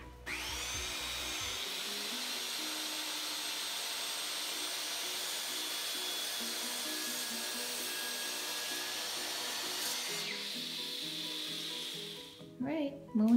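A power saw cuts a bookshelf board at an 8-degree angle, a loud, steady whine held close for about ten seconds before winding down, followed by brief clatter.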